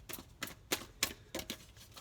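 A large tarot deck is shuffled close up, giving a run of about seven quick, crisp card riffles and slaps spaced irregularly, faint and without voices.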